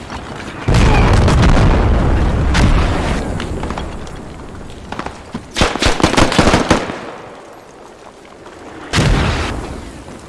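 Mortar rounds exploding in the video game Squad, in an Afghan valley battle: a loud, sustained barrage of heavy booms and rapid blasts, with a dense cluster of impacts in the middle and a final strong burst near the end.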